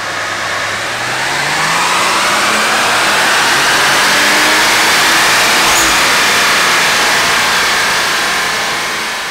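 A turbocharged car engine on a dyno roars in one long sustained pull, climbing in pitch, holding loud at the top and then easing off, with a broad rushing wash throughout.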